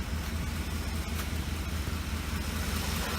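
A 2008 Ford Expedition idles quietly with a steady low engine hum, faint ticking from the fuel injectors and a soft whir from the cooling fan, and nobody speaks.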